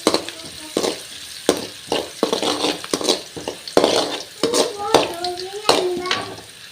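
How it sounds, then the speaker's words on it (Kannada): Onion and garlic fry in a pan while a utensil stirs them, giving repeated scrapes and clinks over a steady sizzle at close range. "ಫ್ರೈ ಮಾಡ್ತಾರಲ್ಲ"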